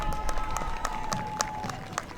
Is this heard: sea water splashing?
no